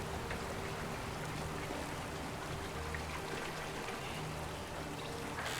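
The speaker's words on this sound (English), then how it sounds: "Pretty waterfall." A steady, even wash of falling water from a waterfall in the video game The Forgotten City runs unbroken at moderate level throughout, with no voices.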